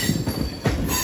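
WAP 7 electric locomotive of Lalaguda shed hauling the Visakha Express, a Bhubaneswar to Secunderabad train, rumbles past close by with steady rail noise and high sustained wheel squeal.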